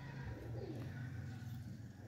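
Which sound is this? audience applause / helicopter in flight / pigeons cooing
pigeons cooing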